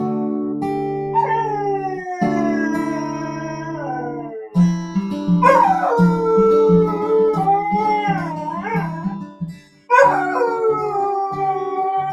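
A small dog howls close by in long, wavering, pitched cries that rise and fall, broken by short pauses and a few yipping breaks.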